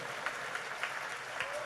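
A congregation at a Christian convention claps in thanks to the Lord, a fairly quiet, distant patter of many hands with a few sharper claps standing out.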